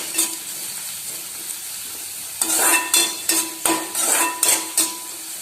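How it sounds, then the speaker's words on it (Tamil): Green chillies and curry leaves sauté in a pan for bread masala. A soft, steady sizzle rises into louder bursts as a spoon scrapes and stirs against the pan in repeated strokes. "சேர்த்து எல்லாத்தையும் நல்லா வதக்கி விட்டுக்கலாங்க."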